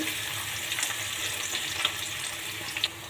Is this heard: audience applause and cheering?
no